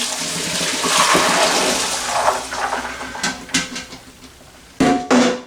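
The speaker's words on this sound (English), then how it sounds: "So I poured the water off my beans again" Water pours and splashes through a strainer as it is drained off beans, a rushing flow that tapers into trickles, followed by a couple of sharp metallic clanks.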